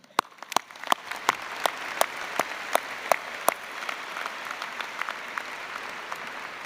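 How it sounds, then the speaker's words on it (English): An arena crowd at an Oklahoma State University commencement in Gallagher-Iba Arena applauds the graduates, their families and friends, with a few sharp, distinct claps ringing out over a wider, softer wash of clapping that carries on steadily. "one more applause for you and your families and your friends"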